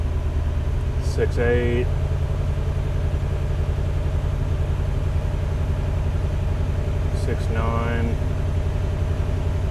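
A 1953 Lincoln car engine on a 6-volt electrical system runs steadily with a constant low rumble, close and loud. Brief voices speak twice over it.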